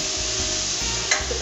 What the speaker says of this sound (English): Now it's time for the pea shoot. Put that straight in there.